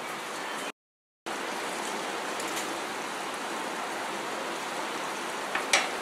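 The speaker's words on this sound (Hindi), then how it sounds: "शक्कर को हम पानी डाल के कुछ देर उबलने देते हैं।" Sugar and water boiling together into syrup for mava sweets, giving a steady hiss and fizz of bubbling throughout, with a brief dropout near the start and one small pop near the end.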